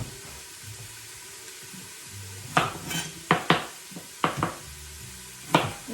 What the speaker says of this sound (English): now I'm gonna cut up the anise, fennel